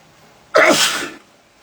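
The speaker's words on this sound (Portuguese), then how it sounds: "é um espirro, podem ficar tranquilos." A single sharp, loud sneeze bursts out close by in a quiet room, with silence before and after.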